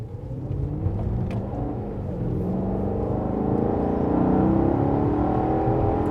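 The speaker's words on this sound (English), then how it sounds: "So I pressed the magic button right here to sport mode. So it's going to open up the exhaust" Maserati four-door sport sedan in sport mode with the exhaust opened up, revving hard: a loud, continuous engine roar that swells and climbs in pitch toward the end, heard from inside the car with no talking.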